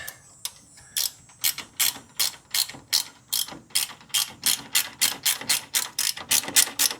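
A hand ratchet clicks in quick repeated strokes, tightening a bolt during a fuel pump replacement on a John Deere 318 lawn tractor, close and crisp with a steady rhythm that speeds up toward the end.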